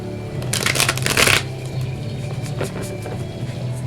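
Tarot cards being shuffled by hand during a reading, a dense burst of riffling flutter that peaks early and then fades to a soft, steady background with faint hand movements; no talking.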